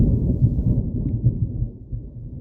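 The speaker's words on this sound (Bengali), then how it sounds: "শুধু ভেসে আসছে পরপর বাজ পড়ার শব্দ" Rolling cartoon thunder from a dark stormy night, a continuous low rumble of successive strikes that swells and slowly fades, loud and alone with no voices.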